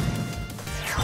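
A capsule cracking open during a New Year lucky-bag gacha draw in a baseball video game, heard as a loud, dense crash-like smash filling the moment, with game music and effects layered over it.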